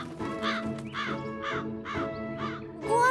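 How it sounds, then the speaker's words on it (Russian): Six evenly spaced, raspy caws from a crow in an animated cartoon repeat about every half second over a steady musical background. "Почему эта ворона такая злая?"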